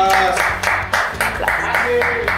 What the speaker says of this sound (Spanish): ¡Aplausos para el Atlas!